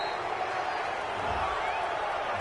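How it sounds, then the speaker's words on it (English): Stadium crowd noise in a Madden 21 NFL video game, Dolphins versus Patriots, reacting to a penalty call: a steady, dense roar with a faint rising murmur and no single voices standing out, running throughout. "this crowd does not like that call"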